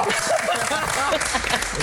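Clapping in applause for an actress during a reaction show, a loud continuous patter of hands mixed with excited voices talking over it.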